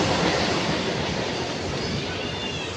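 A train runs past with a steady rumbling roar of wheels on the rails, moderately loud and continuous for a few seconds, with no talking.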